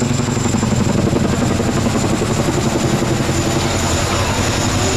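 A Boeing CH-47D Chinook twin-rotor helicopter flies close by, producing a loud, dense, continuous roar with a constant rotor throb throughout.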